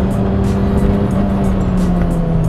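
A Citroën AX Sport car engine hums loudly and steadily, its pitch creeping slightly upward as it revs, recorded close.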